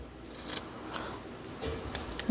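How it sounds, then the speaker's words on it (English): Scissors snip paper for handmade journal pages, a few quiet, crisp cuts spaced unevenly through a faint background. "let's go ahead and trim this guy off"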